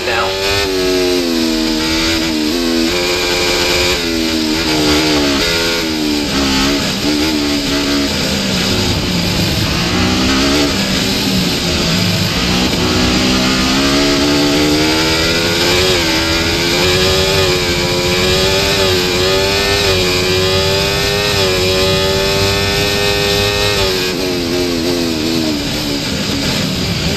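A Formula 1 car's engine in the F1 24 racing game, racing at the Chinese Grand Prix, screams loud and continuous at high revs, its pitch climbing and dropping through gear changes for the whole stretch, with a voice talking over it.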